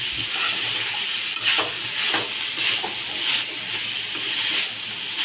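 Tender alkul leaves sautéed in a pan make a loud, continuous sizzle, with periodic soft stirring sweeps and scrapes repeating every second or so, and no speech.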